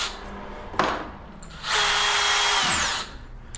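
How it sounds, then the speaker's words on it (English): A cordless drill running in plain rotary mode without hammer action, a short burst followed by a steady, loud whine for about a second and a half that then winds down. "I thought this drill had the hammer on it, but it does not."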